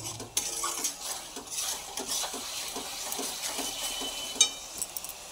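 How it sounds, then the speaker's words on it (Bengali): Chicken being stirred in a pan with salt and turmeric, a utensil scraping and clinking against the metal in irregular strokes over a faint sizzle, close and moderately loud. "দিয়ে দিলাম পরিমাণ মতো হলুদ, আবারও নাড়াচাড়া করে নেব।"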